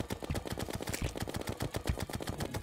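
Rapid gunfire in Terraria, a fast, steady stream of sharp digital shots repeating evenly with no pause, moderately loud with faint background game sound.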